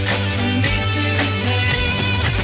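Song from the Yellow Submarine soundtrack plays in a dense, loud short excerpt with sustained droning organ and guitar and steady rhythmic beats, no talk over it.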